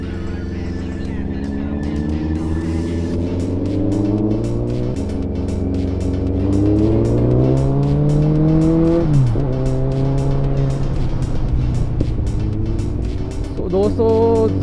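An inline-four motorcycle rides along a mountain road in Himachal, its engine rising through the gears with repeated upshifts and a steady, close exhaust drone, while a voice talks over it.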